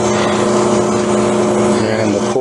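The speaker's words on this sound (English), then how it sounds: "Here's what a cooler looks like inside while it's running." An evaporative cooler runs with its electric motor driving a belt and pulley that turn a squirrel cage fan, giving a loud, steady mechanical hum with strong tonal bands and a slight shift near the end.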